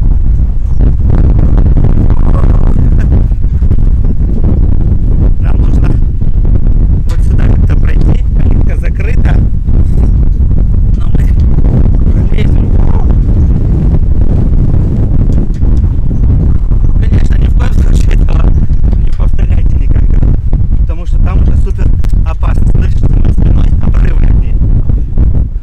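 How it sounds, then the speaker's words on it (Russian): Strong wind buffets the microphone continuously at a cliffside fortress on the Crimean coast, a loud, steady roar with gusty swells throughout, and a person speaks intermittently over it. "Правда, сильный ветер."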